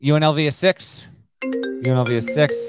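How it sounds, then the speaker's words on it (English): A phone ringtone plays during a call on a college basketball discussion: a brief steady tonal ring with sustained notes after a short pause, with people talking before and after it. "Sorry about the phone call. I don't know if that came through."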